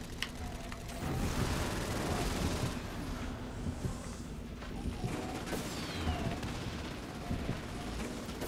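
Heavy, dense gunfire roars continuously in the Gat Out of Hell video game, a loud wall of rapid shots and explosions with sharp cracks punctuating the din.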